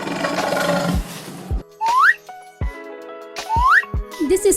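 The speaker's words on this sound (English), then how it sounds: "This is lion." A painted toy lion plays a loud electronic roar, followed by mechanical clicks and two rising whistle-like chirps, all close and alone.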